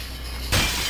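Glass shattering in the video game Happy Wheels, one sudden loud crash that breaks in halfway through and keeps ringing as a bright scatter of breaking glass.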